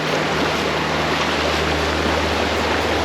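Steady rush of a river current near Ambon-Ambon Falls in Bagac, a broad continuous wash of flowing water with a low rumble, constant and fairly loud throughout with no voices.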